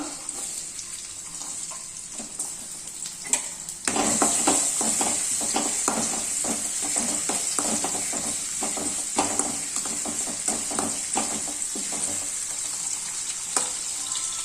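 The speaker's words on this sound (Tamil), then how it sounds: "எண்ணெய் காஞ்சோடனே பொடியாக நறுக்கின பூண்டு போட்டுக்கலாம்" Hot oil sizzles and crackles steadily, jumping louder as finely chopped garlic drops in, with a constant hiss and occasional stirring clinks close by.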